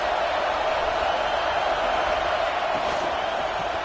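Football stadium crowd roaring as a steady, dense wall of noise that stays loud and constant throughout, with no distinct voices standing out.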